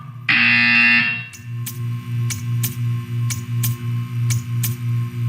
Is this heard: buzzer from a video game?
yes